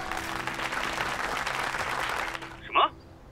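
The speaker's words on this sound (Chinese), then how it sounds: "掌声欢迎。" Applause from the audience at a charity auction, a sustained steady clapping that stops abruptly near the end, followed by a brief single sound.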